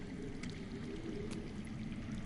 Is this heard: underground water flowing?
yes